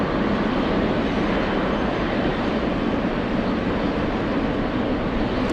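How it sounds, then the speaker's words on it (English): A Cessna light aircraft passing near JFK airport, heard as a steady broad engine roar that holds evenly at a distance for several seconds, with no voices over it. "All right, there goes the Cessna."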